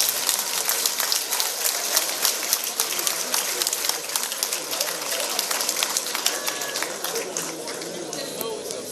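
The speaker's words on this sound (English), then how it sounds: "Give her a round of applause." Crowd applauding at a live gathering during a quiz segment, a steady, dense patter of many hands clapping that continues for several seconds, bright and fairly close, with some chatter mixed in.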